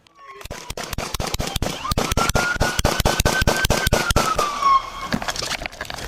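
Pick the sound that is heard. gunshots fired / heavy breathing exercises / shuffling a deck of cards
gunshots fired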